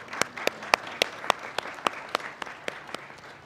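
Clapping from a graduation ceremony audience, about a dozen distinct sharp claps standing out over a thinner wash of applause, moderately loud and steady for a few seconds with no talk.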